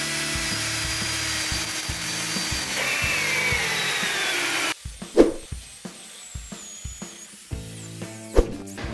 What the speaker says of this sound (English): So I'm gonna drill a hole in the side of the tire.